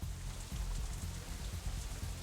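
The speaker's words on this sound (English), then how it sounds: "it's still raining outside when we exit the Shanghai, though it seems to be letting up a little" Steady rain falls in the visual novel game Katawa Shoujo, a soft, even patter with a low rumbling undertone, heard alone and fairly quiet.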